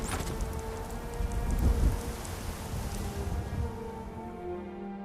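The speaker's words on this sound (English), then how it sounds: "This rain will stop eventually." Steady rainfall in Skyrim, a continuous hiss of drops on surfaces with a low rumble swelling briefly like distant thunder, no voices.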